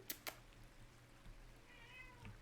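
A chatty cat meows once, soft and fairly near, after two sharp taps at the start, over a quiet low hum.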